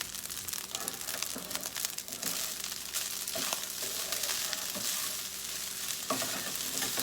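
Rice being stirred in a skillet with bacon, salt and black pepper, a loud, dense crackling sizzle with repeated scraping strokes of a spoon against the pan, no one talking.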